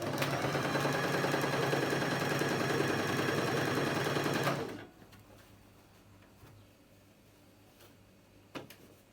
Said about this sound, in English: I'm just doing my normal sewing